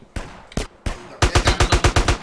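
AK rifle fire in GTA: a few separate shots, then a rapid automatic burst of about ten evenly spaced rounds, close and loud with no talking.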